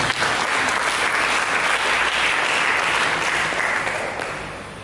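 A church congregation bursts into dense, full applause during a sermon, loud and sustained, fading slightly toward the end.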